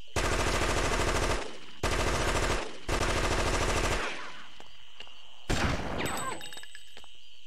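Automatic gunfire from the video game Fear Effect rips out in three loud sustained bursts, followed by a short final burst and faint ringing tail.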